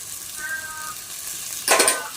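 Sliced onion fries with crushed ginger and garlic for a meat singara filling: a quiet pan hiss, then a sudden loud burst of sizzle as the aromatics hit the hot pan near the end.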